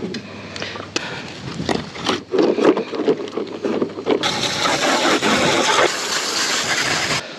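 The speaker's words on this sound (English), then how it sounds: "Rinse that drain line a little bit." Water rinses through the drain line of a Mitsubishi unit during cleaning, first as scattered knocks and handling sounds, then a steady broadband hiss of flowing water from about four seconds to seven seconds, fairly close.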